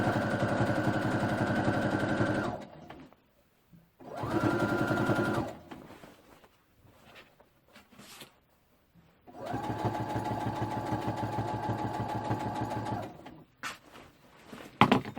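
A sewing machine stitches fabric for a simple skirt, its motor humming and needle clattering in three long steady runs that are split by quiet pauses while pins are pulled out.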